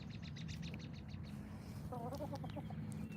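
A backyard chicken clucking close by, a run of short rhythmic clucks followed by a few harmonic squawks over a constant low rumble.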